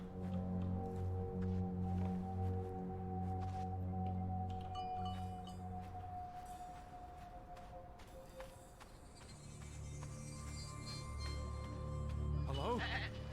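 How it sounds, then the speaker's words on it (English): A goat bleats in the Draugen video game, wavering calls heard among soft footsteps and hoof sounds over a sustained droning music bed, with a louder bleat near the end. "It's a goat!"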